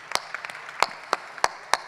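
Scattered audience clapping at a Hindi poetry recital (kavi sammelan), a handful of sharp separate claps in an uneven rhythm, fairly close, with no voices over them.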